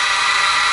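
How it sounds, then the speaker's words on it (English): A milling machine spindle runs steadily at about 2,000 RPM with a single-flute indexable end mill fitted, giving a continuous, even, loud mechanical whir with no breaks. "so there the spindle is going about"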